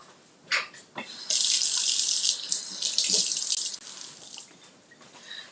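Tap water runs into a sink while hands are washed, a steady close splashing stream after a few brief clinks and taps, then easing off.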